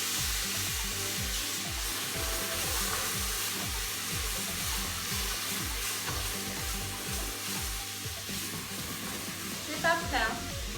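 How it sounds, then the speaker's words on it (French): Sliced courgettes sizzle loudly in a frying pan while they are turned and stirred, with a steady hiss over a rhythm of low scraping bumps from the pan. "Alors ces courgettes, on les retourne un peu."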